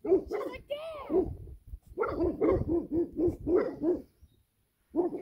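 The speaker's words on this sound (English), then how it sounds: "I've never heard her bark like that before" A Cane Corso barks repeatedly in a steady run of loud, close woofs with a brief whine, then pauses before one more bark; people talk between the barks.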